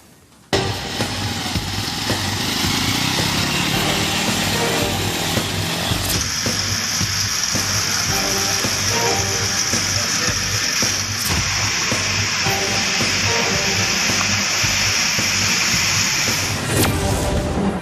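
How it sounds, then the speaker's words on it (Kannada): A homemade hybrid tractor built from scrap parts, able to run on petrol or electricity, roars with a loud, steady engine drone that starts abruptly and holds throughout, its pitch shifting slightly partway through. "ಹೈಬ್ರಿಡ್ ಟ್ರ್ಯಾಕ್ಟರ್ ಪೆಟ್ರೋಲ್ನಲ್ಲೂ ಓಡುತ್ತೆ, ಕರೆಂಟ್ನಲ್ಲೂ ಓಡುತ್ತೆ."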